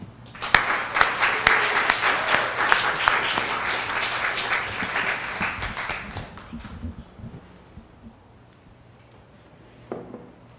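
A lecture audience applauds to welcome video and performance artist Kalup Linzy, dense clapping that builds quickly, holds for about six seconds, then fades into quiet room tone with a few stray claps.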